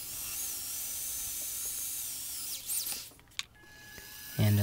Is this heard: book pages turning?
no